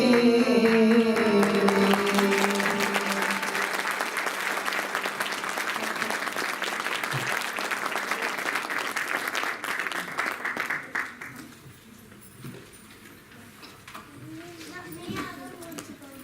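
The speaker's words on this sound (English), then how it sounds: "Can we have another round of applause for that fantastic performance?" Applause fills a hall after a devotional music performance at a birthday celebration for Swami, a dense, steady crowd clapping that fades away after about eleven seconds, followed by quieter room sounds and voices.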